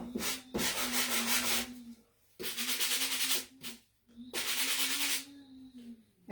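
Repeated firm rubbing strokes across a painted wooden house decoration, wiping away excess paint in three long passes separated by brief pauses, close and fairly loud.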